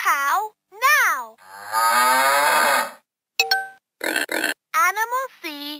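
A 2017 VTech Touch & Teach tablet toy, UK version, plays a cow moo sound effect, a long loud low-pitched moo in the middle of the clip, set between short bursts of chirpy recorded speech.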